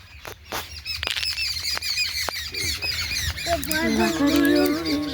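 Pigeons squawk and chirp repeatedly close by while being hand-handled, with voices talking and shuffling movement underneath; the calls grow busier toward the end.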